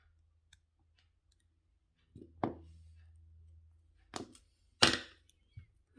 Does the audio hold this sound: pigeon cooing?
no